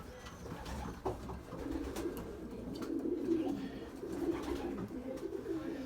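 Young pigeons, dark checkers and blues, coo softly in a loft, low repeated burbling calls with faint rustling and a few sharp knocks nearby.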